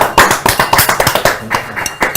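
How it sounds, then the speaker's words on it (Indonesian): Students applauding together, a loud, close burst of rhythmic clapping that lasts a couple of seconds. "tepuk tangan dong"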